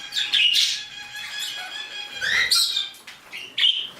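Pet birds squawking in a bird room at bedtime, a few shrill, harsh calls and chirps close by, separated by brief gaps, with faint fluttering in between.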